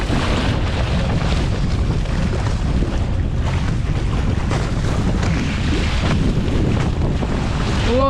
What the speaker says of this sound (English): Whoa, big gust.